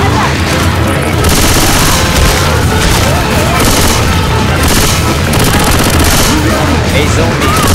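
Gunfire and explosions in the zombie video game Left 4 Dead 2 form a dense, loud, continuous barrage of rapid shots and booms, with voices mixed into the noise.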